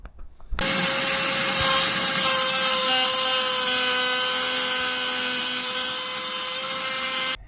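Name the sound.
Bayer 20V lithium ion cutoff oscillating tool cutting a bolt head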